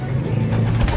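Racing pigeons cooing softly amid a dense rustling background, a low murmuring coo close by.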